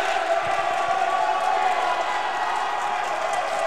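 Crowd roaring and cheering in a large, echoing venue at a Blitzball championship game, a sustained loud din with voices mixed in.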